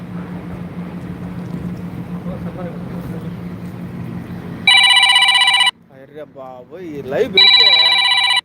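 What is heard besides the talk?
telephone ringing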